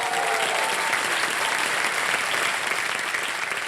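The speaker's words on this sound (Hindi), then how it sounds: "ताली बजते रहे इनके लिए" A studio audience on a quiz show claps in a steady, dense burst of applause, close and even throughout, with no speech.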